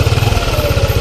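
A customized rat-look Yamaha NMAX scooter engine revs in short rapid pulses, loud and close, with a rough throbbing idle and no voices.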